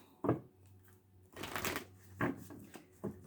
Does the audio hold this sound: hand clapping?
no